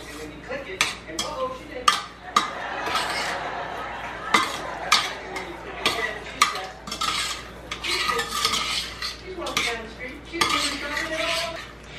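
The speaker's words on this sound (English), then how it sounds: "then we're just gonna" A utensil stirs a marinade in a bowl with repeated close-up clinks, taps and wet scraping, busy and uneven throughout.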